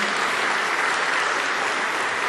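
Keynote audience applauding the event director, a short burst of steady, dense clapping throughout.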